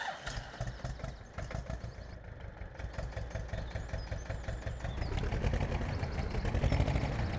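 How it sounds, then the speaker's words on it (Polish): A tractor engine in Farming Simulator 17 turns over and starts, a rapid chugging putter that steadies into a running idle and grows louder toward the end, with no talking. "Odpalamy go w końcu, po 5 minutach."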